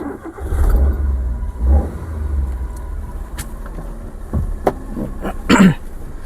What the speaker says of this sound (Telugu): ఒకసారి ఇంజిన్ స్టార్ట్ చేసి చూపిస్తాను ఫ్రెండ్స్ చూడండి